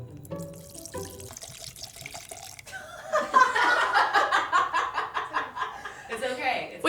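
Orgeat almond syrup is poured into a cocktail, making a steady liquid trickle and gurgle under chuckling and talk from people nearby.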